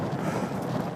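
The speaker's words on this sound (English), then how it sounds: "crazy windy now." Strong wind roars across the microphone in a continuous, buffeting rush on an exposed mountain pass in the Lairig Ghru, Scotland, with no voices.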